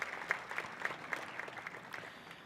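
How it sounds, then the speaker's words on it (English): Steady applause from a seated audience of students and families at an engineering college first-year orientation, dense clapping at moderate volume with no talk over it. "A big round of applause to all these students."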